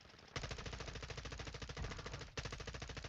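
Sustained, loud automatic gunfire from a Call of Duty match, with a dense stream of rapid shots that pauses briefly and then resumes.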